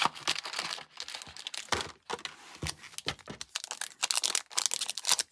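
Trading card packs are torn open by hand, making close, irregular bursts of crinkly foil ripping and crackling separated by short pauses, with no talking.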